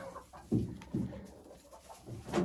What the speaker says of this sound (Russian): Смотрите, какая красивая курочка.